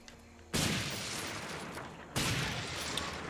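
Gunfire in the World War II shooter Medal of Honor Frontline while smashing supply boxes, two sudden loud bursts of shooting about a second and a half apart, each trailing into a sustained noisy rush, with no speech.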